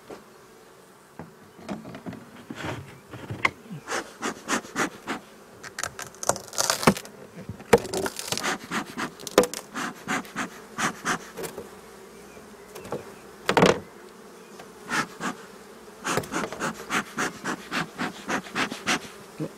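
Honeybees buzz around an open hive as frames are pulled during a spring inspection. A steady hum runs throughout, with many close, crackling bursts of bees and wooden frame scrapes in an uneven rhythm, and no talk.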